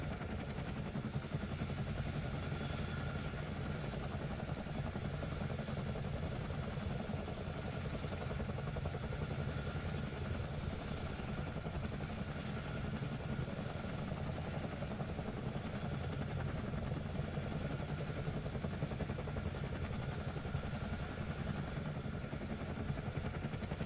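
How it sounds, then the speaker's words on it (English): Chinook CH-47D tandem-rotor helicopter in Microsoft Flight Simulator 2020, giving a constant dense rotor thrum and turbine whine, steady and unbroken throughout, with no talking. "I love the way this thing sounds, man. Helicopter sounds so awesome."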